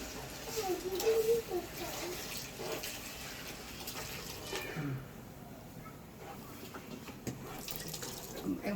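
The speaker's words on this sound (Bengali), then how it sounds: "দুধ দিয়ে দিচ্ছি" Milk poured into a cooking pot in a home kitchen, a steady liquid splash and gurgle running for several seconds with kitchen clatter around it and a voice talking now and then.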